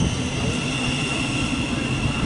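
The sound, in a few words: Thameslink train 700-128 arriving at St Albans City station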